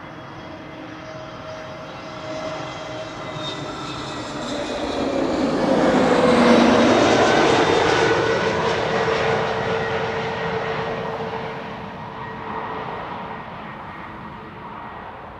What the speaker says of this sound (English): Up next is EasyJet flight 27890 arriving from Malaga. That's the A320 Neo.